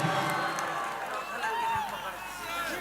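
A crowd at a Khesari Lal stage show at Harmu Maidan in Ranchi cheers and shouts in a steady, fairly loud roar, with scattered clapping and babble.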